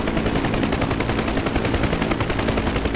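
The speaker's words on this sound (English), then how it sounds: "Come back around, make another pass, this time with guns" Door guns firing from a UH-1H Huey helicopter in the flight simulator DCS World during a strafing pass on a convoy: a loud, steady stream of rapid automatic shots sounding for the whole stretch over the rotor drone.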